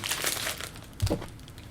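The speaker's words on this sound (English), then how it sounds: "Yet another plastic bag." Thin plastic bag crinkling as it is handled while unboxing a package, a soft near rustle that swells and fades, with a brief louder crumple partway through.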